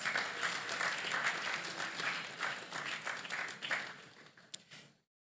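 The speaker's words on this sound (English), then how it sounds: "A round of applause." Warm, steady applause from an audience welcoming a guest at a student gathering with animation professionals, sustained for several seconds before cutting off abruptly.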